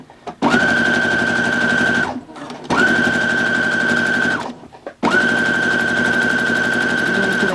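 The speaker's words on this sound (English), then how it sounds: "I'm going to go one stitch forward." A sewing machine stitches a zipper bag in three sustained whirring runs of about one and a half to two seconds each, separated by short pauses. The sound is loud, close and steady, with no voices over it.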